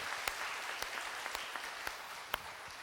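Faint, scattered clapping from a church congregation during a Sunday service, a soft patter punctuated by a few sharper individual claps.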